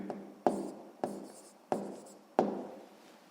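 A pen writes out a numerical answer by hand on paper, four or five quick scratchy strokes in a steady rhythm, close and clear with no talk.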